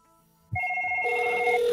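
An incoming call rings a phone on a call-center agent's line: a single clear electronic ring tone starting abruptly after a short quiet, sustained and close.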